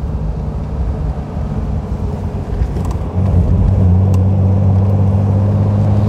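A 1938 Mercedes 320 Cabriolet engine running steadily nearby, a low continuous hum that grows louder and deeper halfway through, with no talking.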